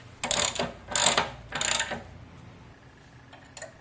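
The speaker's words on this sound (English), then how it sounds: "Tighten the axle nut." A wrench ratchets as it tightens the rear axle nut on a Harley Softail motorcycle, giving three close, loud bursts of rapid clicking, then a quieter pause and one faint final click.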